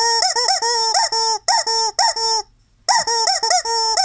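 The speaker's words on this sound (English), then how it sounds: "Choke that chicken, Danielle." A rubber chicken is squeezed in rapid rhythmic bursts to play a tune, giving loud, close squawking honks in short repeated notes, with one brief pause midway before the melody resumes.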